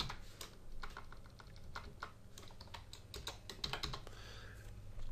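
Steady typing on a computer keyboard, a run of quick, close key clicks with uneven rhythm and a few louder taps, heard alone without talk.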